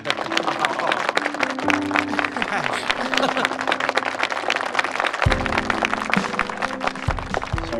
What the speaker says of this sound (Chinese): 让我们为这对新人鼓掌吧